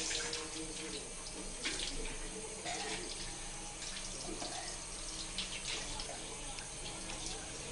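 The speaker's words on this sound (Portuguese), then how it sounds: "depois você enxágua a mão" Tap water runs steadily into a sink as hands are rinsed, a continuous splashing stream heard up close throughout with small shifts as the hands move under the flow.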